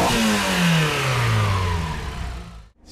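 A Subaru time attack car's engine, fitted with individual throttle bodies and large red intakes, revs up loud and close, its pitch climbing and falling in one sustained sweep before cutting off abruptly near the end.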